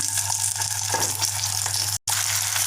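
Idlis shallow-frying in a kadhai with a few spoonfuls of hot oil, mustard seeds and curry leaves, giving a steady close sizzle with a low hum beneath and a brief dropout near the end.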